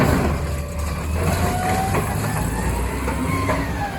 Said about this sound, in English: a truck with a mechanical arm pulls up to the curb